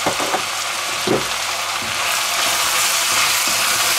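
Ground beef and onions fry in a pot with a steady broadband sizzle, joined by a few soft scraping stirs near the start; nobody talks over the cooking.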